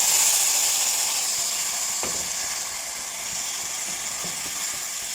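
Steady sizzling hiss from a hot pan as soaked basmati rice goes in for carrot rice, a broad frying noise that fades slightly, with a couple of faint utensil clicks.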